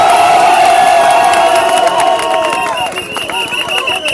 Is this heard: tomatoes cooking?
no